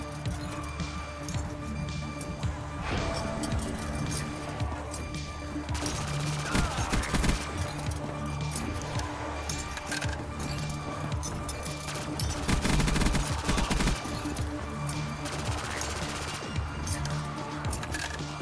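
Dense rapid gunfire from a gun during a boss fight in a modded Black Ops zombies murder mystery map, loud continuous bursts with crashing impacts and game effects layered throughout, under occasional faint talk.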